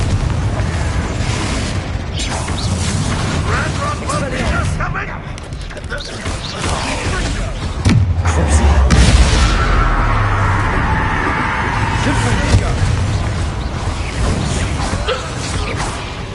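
Bombarda and Confringo explosion spells in the Hogwarts Legacy video game burst repeatedly amid a chaotic fight, with loud booms, whooshes and deep rumbling impacts over a steady din, and voices talking at points.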